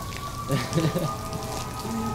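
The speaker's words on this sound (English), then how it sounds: "we had to make it rain by the hose mechanism" Artificial rain sprayed from a hose for a film shoot patters as a steady, close hiss of falling water, with a few brief low voices murmuring partway through.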